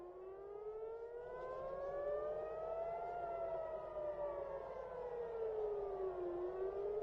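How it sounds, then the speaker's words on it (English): Air raid sirens wail over Tel Aviv, a loud civil defense siren tone rising and falling slowly across the whole stretch, steady and sustained with no voices. "We do have a video of the sirens going off in Tel Aviv"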